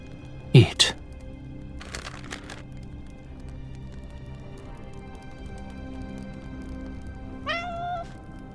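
Cat meows in the Love and Deepspace video game, with two sharp close meows near the start, a fainter one soon after and another rising meow near the end over a quiet ambient background.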